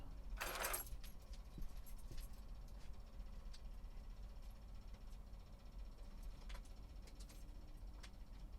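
Van keys jangle in a short bright rattle near the start, then a few fainter clinks follow over a low, steady background hum.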